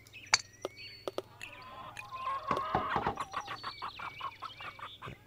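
Chickens cluck inside a chicken coop in the video game Golf It!, several sharp clucks first, then a busy stretch of overlapping squawks and chatter from the flock, fairly close and steady.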